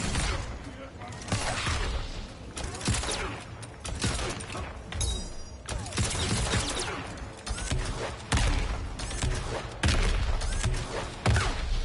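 Robocop's gunfire in Mortal Kombat rattles in dense, continuous volleys, thick with thuds and impacts, while a voice talks over the fight.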